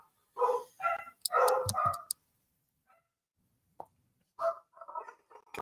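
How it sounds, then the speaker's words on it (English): Dogs bark in several loud bursts close by, then fall quiet before a few more barks and yips follow. "Ignore the dogs."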